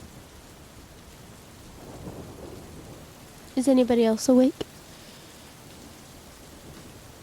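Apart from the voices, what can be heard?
rain falling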